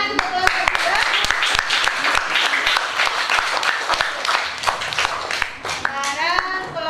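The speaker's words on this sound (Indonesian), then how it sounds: "Tepuk tangan untuk kelompok 2." Students in a classroom applauding a group with loud, sharp, rapid hand claps, irregular and close, with children's voices chattering over the clapping near the end.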